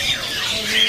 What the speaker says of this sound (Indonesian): Di depan kita ini ada burung kutilang lokal.